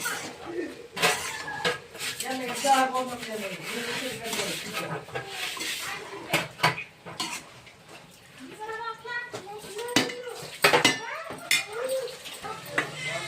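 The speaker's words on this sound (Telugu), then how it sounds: "మంచిగా ఉల్లిపాయ ముక్కలు పట్టేలా కలుపుకోవాలి." Onion pieces with ginger are stirred in a metal cooking pan, the spoon scraping and clinking against the pan in irregular bursts while someone talks over it.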